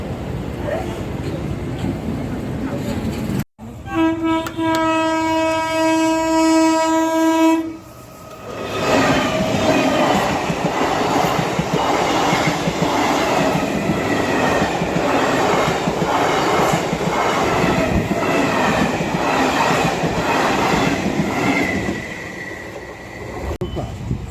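A train runs past close by, loud throughout, with a long sustained horn blast early on followed by a continuous rumble and clatter of wheels on rails as the cars roll by.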